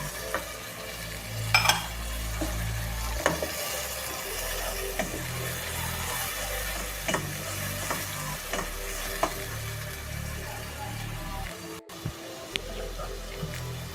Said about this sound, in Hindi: अब इसमें तली हुई प्याज डाल दूंगी और उसको अच्छी तरीके से भूनेंगे मसाले के साथ